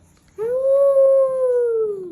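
A voice imitates a wolf howl with one long, smooth, sustained 'oooo' that slowly falls in pitch, close and clear with no other sounds.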